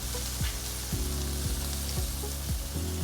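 Chives (cebollín) sauté in a pan with a dense, constant sizzle, and low rhythmic pulses recur about every half second beneath it, close and fairly loud.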